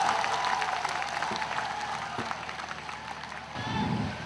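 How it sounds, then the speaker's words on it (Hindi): Audience at a mushaira poetry gathering welcoming a poet with applause, steady moderately loud clapping from a large crowd that swells again near the end. "इमरान प्रतापगढ़ी को तालियों से इस्तकबाल करके बुलाएं।"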